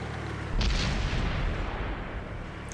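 Tank cannon fire in the console game World of Tanks: one heavy boom lands near the start and then rumbles away slowly under a thick low background, with no voices.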